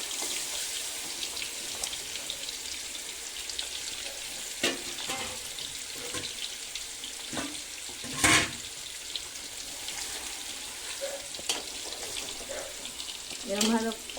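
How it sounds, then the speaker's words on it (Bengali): Spice-marinated country chicken sears in a pot for a curry, giving off a faint, continuous sizzle broken by occasional clinks and scraping stirs, with a voice speaking at times. "মশলা মাখানো মাংসগুলো আমি এবারে এর মধ্যে হাঁড়ির মধ্যে দিয়ে ভালোভাবে কষিয়ে নেব"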